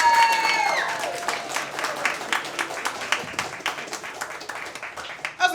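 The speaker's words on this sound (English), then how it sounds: "Start clapping right now." Comedy club audience applauding for a comedian, a dense burst of clapping with some cheering that is loudest at the start and gradually thins out.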